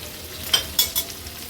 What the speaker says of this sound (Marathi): आता ही बाजून पण आपण आणखीन एक 2 ते 3 मिनिटासाठी मीडियम फ्लेमवरच तळून घेऊया.